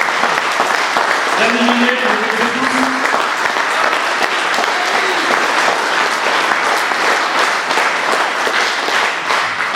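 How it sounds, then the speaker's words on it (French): Loud audience applause fills a political speech hall during a 2021 regional election rally, steady and dense throughout, with a voice speaking over it and briefly calling out names near the start. "je voudrais que vous applaudissiez très fort"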